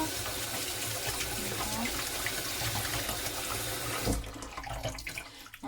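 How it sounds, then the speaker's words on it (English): Cassava and beans being washed under a running tap, with steady splashing water throughout and a person speaking briefly over it before the flow stops near the end. "Now we're gonna wash them under running water."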